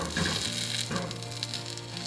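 An onion placed on a stovetop over medium-high heat begins to sizzle, a brief close crackle with a short clatter at the start.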